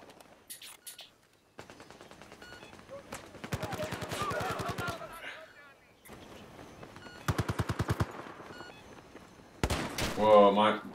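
Automatic and single-shot gunfire in the Battlefield 4 video game, coming in several rapid bursts of crackling shots separated by brief pauses, with a player talking over parts of the action.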